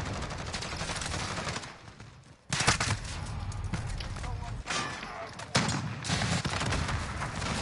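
AK rifle gunfire in a video game: bursts of sharp shots cut in and out over a noisy, busy backdrop, with a loud cluster near the start, another after a brief lull, and someone talking.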